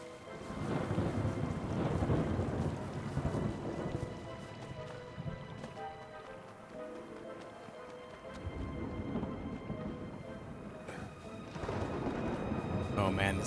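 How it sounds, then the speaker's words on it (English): Thunderstorm with rain in the video game Smalland: Survive the Wilds: heavy rain hiss with rolling rumbles of thunder that swell, ease off midway and build again, loud and close. "Oh man, the storm is gonna hurt."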